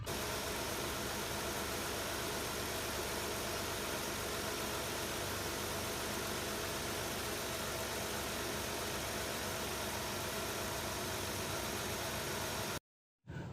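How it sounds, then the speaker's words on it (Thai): A 2004 Nissan Cefiro A33 2.0 automatic idles steadily and smoothly nearby, a constant low hum that cuts out abruptly near the end. "เดี๋ยวลองมาฟังเสียงเครื่องยนต์กันดูนะครับ จะนิ่งเรียบขนาดไหนนะครับ"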